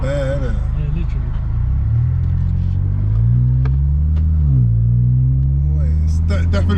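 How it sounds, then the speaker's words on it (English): A modified Audi A5 exhaust rumbles loudly nearby, its low pitch rising and falling as it revs, while people talk over it. "Wow, that exhaust sounds great"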